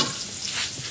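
Pork dinuguan with chayote stirred in a pan, a steady close sizzle with soft scraping throughout, no voices.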